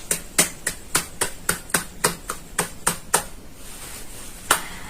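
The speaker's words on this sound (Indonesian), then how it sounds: "Beri tepuk tangan untuk kita semua" A few sharp, evenly spaced claps ring out in a quiet classroom, about a dozen in a steady rhythm, then a short pause and one last clap.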